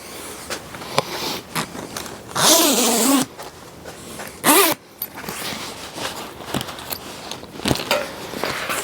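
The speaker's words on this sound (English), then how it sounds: "You got a zipper that runs all the way across here" Several quick zipper pulls on a canvas tent wall, a long drawn-out zip and a shorter one, with small rustles and clicks between, close by.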